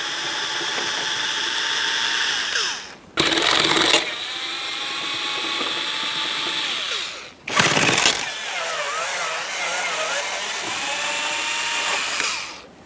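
Power driver spinning out 8mm mounting bolts on the air filter housing of a 2007-2013 Acura MDX 3.7L V6, a steady loud whine broken by two short bursts of harsher noise, close up and alone.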